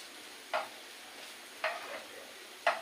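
Bitter gourd fritters fry in a pan with a soft, steady sizzle, broken by three sharp clinks or scrapes spaced about a second apart.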